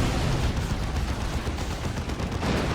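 A frenzied barrage of artillery fire in Dawn of War 2, a Chaos Space Marines versus Imperial Guard battle, rolling as a dense, continuous wash of blasts and gunfire without pause.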